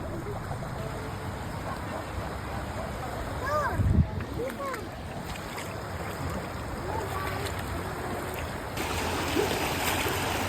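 Flowing water and waves rush steadily at an outdoor camping spot near Manila, a constant broadband wash with small surges. People talk close by over the water.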